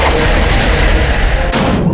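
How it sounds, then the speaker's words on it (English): Solar Cannon attack blast in the video game Manamon, a loud, dense booming roar that fills the whole clip and cuts off abruptly partway through, with a brief burst after. "Peter Griffin used Solar Cannon."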